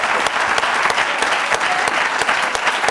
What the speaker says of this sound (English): another round of applause for Charlie Rose for agreeing to moderate